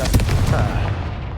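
Confringo blasting spell detonation in Hogwarts Legacy: a short, loud, punchy blast with a booming low body, decaying quickly over about a second and a half.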